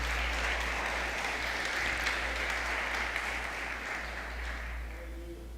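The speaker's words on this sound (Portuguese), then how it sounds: "Você pode dar uma salva de palmas ao Senhor por isso?" Congregation clapping during a church sermon, a steady dense wash of applause filling the hall at moderate level, fading slightly toward the end with a faint voice entering.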